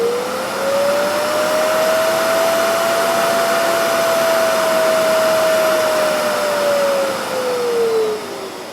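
A Hoover Dustmanager cylinder vacuum cleaner with double-wall insulation runs steadily and loudly, its motor whine holding a constant pitch before easing slightly lower near the end, with no talking.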